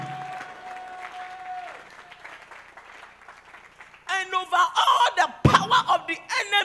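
During a church covenant service, soft music gives way to a congregation clapping in lively, uneven bursts mixed with raised voices and shouts.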